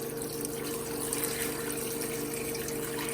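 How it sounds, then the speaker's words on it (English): Water runs steadily into a pot of vegetables for a vegan Nigerian tomato stew, a continuous close rushing pour that holds at an even level throughout, with no voices. "I'm going to add just enough water to cover"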